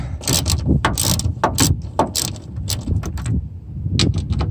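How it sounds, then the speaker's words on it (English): Ratchet wrench clicking rapidly as 10mm bolts are backed out of a Nissan Titan tail light, with close, bursty runs of sharp metallic pawl clicks and brief pauses between strokes. "You just got two 10mm bolts here and here down at the bottom. So we just need to ratchet those off."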